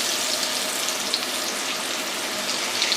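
Sliced potatoes sizzling in a shallow layer of oil and butter, a steady, dense, close frying hiss that runs continuously with small crackles and no voices.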